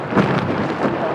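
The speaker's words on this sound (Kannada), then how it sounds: "ಫುಲ್ ಮಳೆ ಒಂದು ಬರ್ತಾ ಇದೆ" Heavy rain with thunder in the hills of Chikmagalur: a brief, dense wash of downpour and low rumbling, steady and fairly loud throughout.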